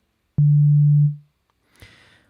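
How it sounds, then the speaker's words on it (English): Oscillator A of the Ableton Operator synth set to a sine wave sounds a single pure, steady low tone that holds for under a second and then fades out, followed by a brief faint noisy burst. "the only thing we're hearing is oscillator A, which is defaulted to a sine wave"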